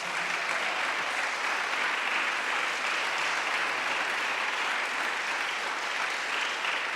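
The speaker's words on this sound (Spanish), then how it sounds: "Dele un aplauso al Señor en esta mañana." A church congregation applauds steadily for several seconds, a dense, continuous wash of clapping that stays loud and even throughout, with no talk over it.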